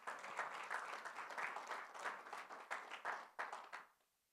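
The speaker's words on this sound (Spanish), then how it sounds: "Vamos, denle un aplauso al Señor." A church congregation at a Sunday service applauds together, a steady wash of clapping at moderate distance that swells and dips for a few seconds before fading out.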